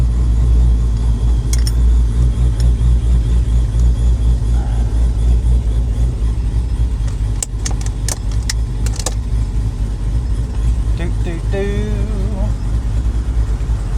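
A TorqStorm supercharged built 392 HEMI RAM truck cruising around town, heard from inside the cab as a loud, constant low engine rumble, with a few brief rattles and clicks near the end.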